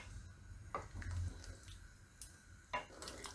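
Water poured from a tap over pigeon peas (tuver) in a pan while making a Gujarati tuver totha curry, a steady close splashing flow with a few louder clinks of the vessel, no talking.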